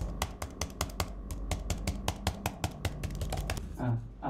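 Rapid, soft tapping of soft, non-mechanical keys on a Samsung Galaxy Tab S11 Ultra keyboard in an uneven typing rhythm, close by, with a brief murmur of a voice near the end.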